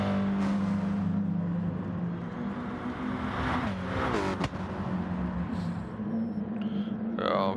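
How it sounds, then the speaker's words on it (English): Race car doing a rolling burnout at an MRC GTTCC circuit race, a steady loud engine drone with rising revs and tyre noise, under continuous commentary talk. "She's just doing a rolling burnout."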